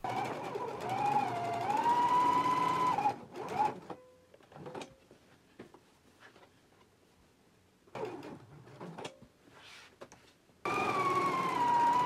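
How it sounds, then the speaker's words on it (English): A sewing machine stitches the side opening edges of a McCall's 7922 dress in several loud bursts, separated by quiet pauses with small clicks and fabric handling as the work is turned. "Okay, so I just stitched the side opening edges."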